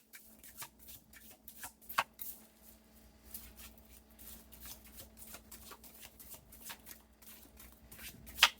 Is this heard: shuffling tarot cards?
yes